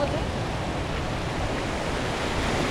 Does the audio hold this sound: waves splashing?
yes